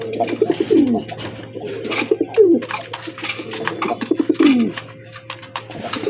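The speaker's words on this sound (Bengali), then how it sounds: "অস্থির লেভেলের এক জোড়া বিউটি হোমা কবুতর" Beauty Homer pigeons coo close by in several low, throaty rolling bursts, with light clicks and shuffling between them.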